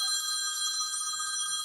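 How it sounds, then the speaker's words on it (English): A telephone rings with a steady electronic trill of bright, stacked tones, fairly loud and continuous, heard alone with no talk during a live postgame sports broadcast. "I apologize for the phone ringing."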